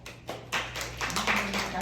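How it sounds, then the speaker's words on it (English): A golf clap from an audience: soft, scattered, polite claps that build slightly, with faint voices murmuring underneath. "Golf clap."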